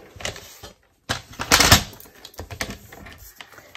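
Card paper being cut with a blade from a point to a pencil mark, a brief scratchy cutting stroke with short rustling and tapping bursts close by, no talking.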